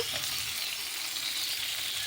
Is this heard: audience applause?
no